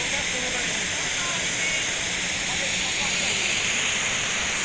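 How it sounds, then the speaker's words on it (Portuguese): The waterfall at Arapongas in Jacobina, Bahia, gives a loud, steady broadband rush of falling water that never lets up. "E aqui, ó, paraíso das cachoeiras."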